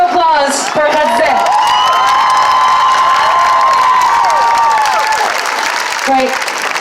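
Rally crowd at a pro-Palestine demonstration applauding loudly, with whoops, whistles and cheering voices rising over sustained clapping for several seconds before it trails off.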